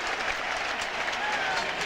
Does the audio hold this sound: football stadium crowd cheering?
yes